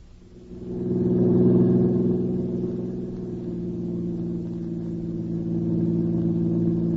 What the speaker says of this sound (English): I'm sure tired to do nothing but driving around in this car